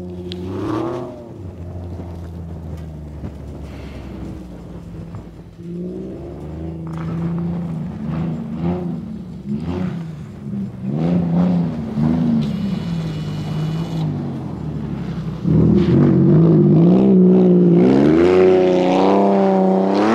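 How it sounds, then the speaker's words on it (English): A car drifts on a snowy winter track, its engine revving and droning loudly as the pitch climbs and falls with throttle changes. It grows louder and more strained toward the end. "All right, so as you guys can see, we're skidding."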